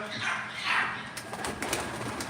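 Pigeons at a live pigeon auction in Batman, Turkey, coo softly close by, a low burbling call, with light rustling and faint background noise.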